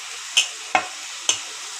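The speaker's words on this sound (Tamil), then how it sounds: "கொஞ்சம் வெங்காயம் சேர்த்துக்கலாம்." Onions dropped into hot oil in a pan for a home-cooked aloo paratha, giving three short, close sizzling stirs over a steady background hiss, with no talking.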